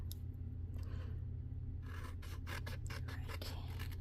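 Cutting out the tabs of a handmade box, a close run of rasping, scraping cuts with rhythmic strokes over a low steady background hum, no talking.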